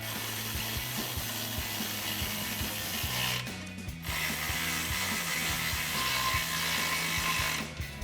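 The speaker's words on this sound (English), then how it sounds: "So now we'll tighten down our flange bolts with our 13mm." A ratchet with a 13mm socket tightens the exhaust flange bolts on a 2021-2024 Ford F-150 Borla S-Type dual exhaust, giving close, steady rapid clicking in quick bursts with a brief pause partway through.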